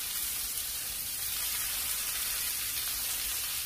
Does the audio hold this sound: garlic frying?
yes